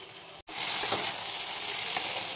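A fried spice mixture with salt and turmeric is poured into a pan for a fish curry with drumsticks, setting off a sudden loud, steady sizzle after a brief quiet moment.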